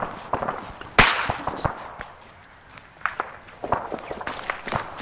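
Scattered sharp gunshots, some close and loud and others more distant, crack irregularly through an Arma 3 infantry firefight, with softer footstep-like thumps in between.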